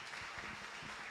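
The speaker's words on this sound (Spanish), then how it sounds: "un fuerte aplauso para la doctora Tania Celina" An audience at a presentation of Veracruz women mayors in a council chamber gives a short burst of applause for a doctor. The clapping is soft and distant, a brief patter without voices.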